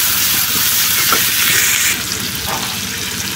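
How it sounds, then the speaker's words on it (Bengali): Chopped onions and plenty of green chillies frying in oil in a village kitchen for a dried fish curry, a steady loud sizzle with faint stirring throughout, easing slightly toward the end. "সব কিছু দিয়ে এখন একটু ভালো করে ভাজা করে নেব"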